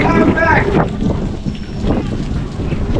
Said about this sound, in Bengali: বৃষ্টি পড়তেছে প্রচুর পরিমাণ